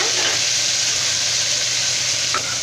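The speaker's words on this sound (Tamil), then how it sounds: "இப்போ தக்காளி வெங்காயம் எல்லாமே சேர்த்துட்டு நல்லா நம்ம வதக்கி விட்டுக்கலாம்." Onion, fresh curry leaves and a medium tomato sautéing in a pan for rajma curry, a dense, steady sizzle close up and loud throughout, with a faint stir or clink near the end.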